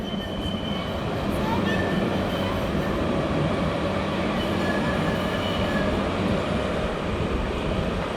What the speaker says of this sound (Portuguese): Olha o trem passando.